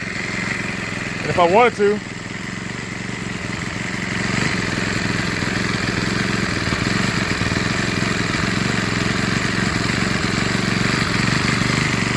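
A Troy-Bilt TB6044XP engine with a freshly changed carburetor and spark plug idles with a steady, close, even hum that rises slightly partway through, while someone speaks briefly near the start.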